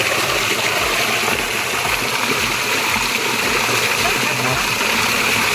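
Water from a borewell tap gushes continuously into a cow's drinking trough in a rural yard, making a loud, close, unbroken rushing splash.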